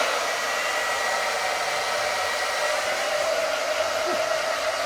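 A hair dryer blows steadily on hair in a salon, a loud, constant airy whoosh with an even motor hum and no break across the whole stretch.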